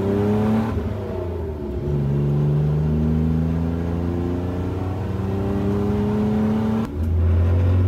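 A BMW E46 drift car engine with a K-Data ECU revs steadily on a test drive, pitch rising and falling through gear changes, loud and close with no voices.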